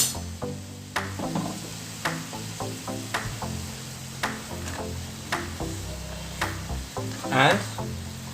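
Carrots stir-fry in a pan with cauliflower and chicken, a light sizzle running under a steady tonal background and broken by regular sharp clicks about once a second, with a brief louder burst near the end.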